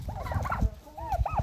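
Turkeys, including a black one, gobble in quick rattling bursts close by, two short runs of calls within a moment, with no talk.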